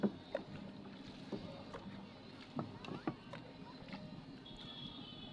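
A rowing boat glides over water, with soft oar splashes and paddle knocks coming at irregular intervals. A steady low rumble runs underneath, with a few faint voices nearby.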